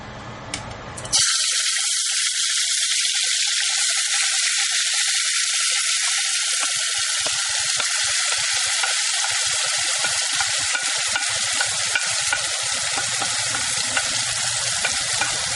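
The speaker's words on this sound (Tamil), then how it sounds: "இப்போ வந்து கருவேப்பிலை போட்டு பொரிஞ்சதுக்கப்புறம் நல்லா மசாலா எடுத்து உள்ள போட வேண்டியதான்" Curry leaves and masala frying in hot oil for a crab curry, a loud continuous sizzle that starts abruptly after a short quiet moment and carries on steadily with crackling pops throughout.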